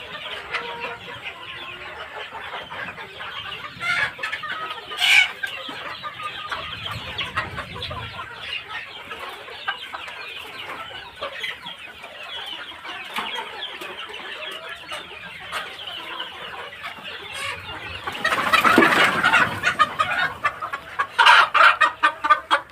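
A flock of Sonali desi chickens clucks continuously nearby, with scattered louder squawks and a burst of busier clucking near the end.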